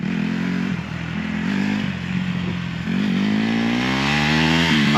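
A dirt bike engine runs at a steady, loud idle nearby, its buzzing drone rising and dipping slightly through the clip, no talk heard.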